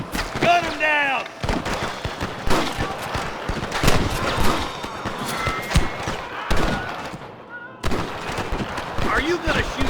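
Gunfire in the Red Dead Redemption video game, a rustler shootout: repeated sharp shots and thuds in irregular bursts, close and loud, mixed with game music and shouted voices.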